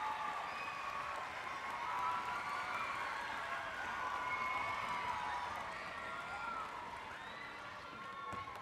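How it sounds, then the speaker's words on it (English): Audience at a board information session applauding the music directors; steady, dense crowd applause with some cheering and voices mixed in, sustained throughout at moderate distance. "let's give them a round of applause"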